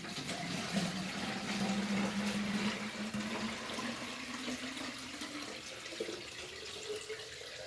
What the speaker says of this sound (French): je remplis dans l'arrosoir